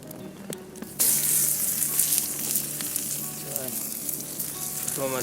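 A burger starts frying on a hot wood-fired rock, bursting into a loud, steady sizzle after a quiet moment, with crackles and pops continuing close up.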